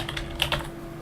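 A computer keyboard typing a search term into a Half-Life mod level editor, a quick burst of several close, crisp keystrokes over a faint background hum.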